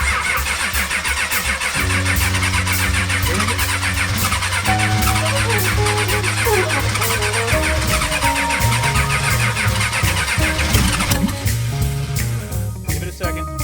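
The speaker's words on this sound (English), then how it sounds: "The engine is clearly ready to fire" A 6.5 diesel engine in a Squarebody truck with a manual glow plug relay cranks loudly and steadily for over ten seconds as it works to start, with a rough, rhythmic churn throughout.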